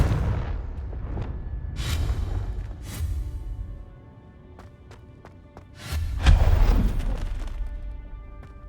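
Confringo fire spell blasts go off in the Hogwarts Legacy video game as a series of heavy booms and thuds, with a louder explosion near the end followed by rumbling decay.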